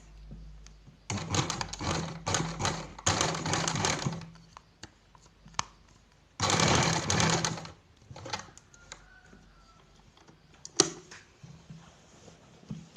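A sewing machine stitches a bound buttonhole in short bursts of rapid, close whirring, separated by quiet pauses and light handling clicks.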